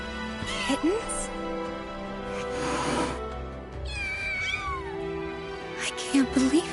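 Cats meow in the video game Final Fantasy VII Remake, several soft cries, one longer, wavering call midway and a few short mews near the end, mixed with spoken voices and background game sound.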